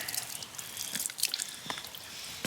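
Water runs and drips while an Alaskan king crab is cleaned and cut with a knife, a steady wet trickle with small splashes close by and no talk.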